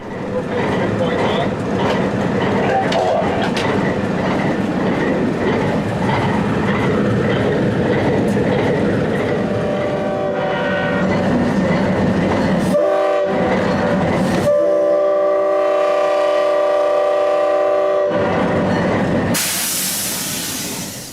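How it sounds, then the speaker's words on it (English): A five-chime air horn on an Alco RS3 diesel locomotive blows long, loud, chord-like blasts that echo through a valley over a rumbling, hissing train, then cuts off near the end. "the loud 5-chime air horn on 8427's roof echoes through the valley"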